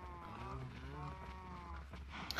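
Minecraft cows give drawn-out, low, wavering moos that overlap over a steady game background, with a brief sharper noise at the very end.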